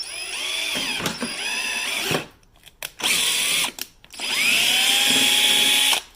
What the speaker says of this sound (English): You just got to like make the pilot hole all the way through, and don't put too much force, just enough to put a hole in the rocker.